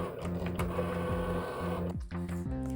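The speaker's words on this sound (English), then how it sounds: "We're just gonna let Cricut cut that out too" A Cricut cutting machine cuts blue puff vinyl, giving a steady motorized whir with rhythmic stepping tones and brief carriage sweeps throughout, loud and close with no talk.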